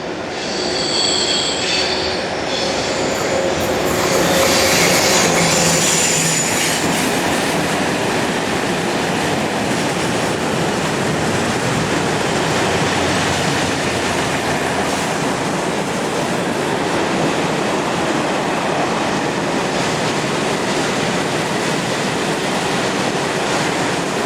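Eastbound freight train hauled by a locomotive rolling past, a loud steady roar of wagons and wheels with some squealing near the start, continuous for the whole stretch and no voices.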